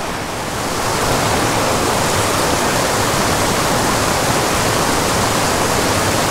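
Steady, loud rushing water from a very steep, tiny creek like a waterfall, a constant dense roar with no breaks.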